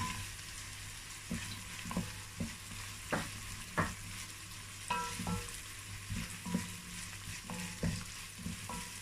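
Fish is stirred into a pot of efo riro stew, with soft scraping and knocking strokes of the spoon over a low, steady sizzle, fairly quiet and close.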